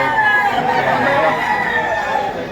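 A rooster crowing amid a rainy livestock market in Lipa, Batangas, a loud drawn-out call over crowd chatter and voices nearby.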